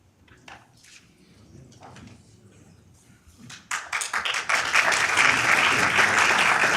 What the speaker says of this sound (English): Let us start a round of applause